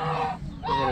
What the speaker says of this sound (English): What kind of geese are these?